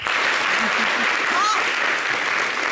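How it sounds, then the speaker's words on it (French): Studio audience of a French-language television talk show applauding, a continuous dense burst of clapping with a few faint voices and a short whoop mixed in. "Applaudissez pour le sujet."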